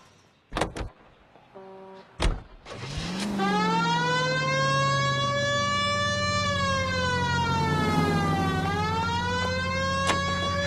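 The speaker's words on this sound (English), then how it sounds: "We have a siren." A police car siren in the video game L.A. Noire winds up and wails steadily, loud and close, after a few sharp clunks and a brief electronic tone at the start.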